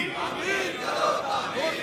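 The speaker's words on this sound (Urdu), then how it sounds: "سب اس نعرے میں شامل ہو جائیں گے" Large crowd at a Shia majlis gathering in Punjab shouting a slogan together, a dense, loud chorus of raised voices sustained throughout.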